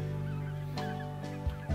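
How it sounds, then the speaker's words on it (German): Geese honk in a bird sanctuary meadow by the Rhine, several nasal calls overlapping near and far above a steady outdoor background, with a few louder honks toward the end. "Ich weiß jetzt nicht, wie viele Gänse das hier sind"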